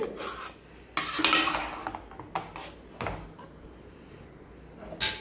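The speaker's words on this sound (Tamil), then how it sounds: "நம்ம வந்து ஏதாவது ஒரு ஸ்பூன் எடுத்து கிளறி விட்டுக்கிடுங்க" A spoon stirs biryani rice in a metal pot, giving sharp clanks and scrapes against the pot in a few bursts, close and moderately quiet, with gaps of low background noise between.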